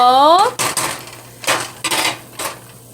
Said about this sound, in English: we're now going to add this fully cooked chorizo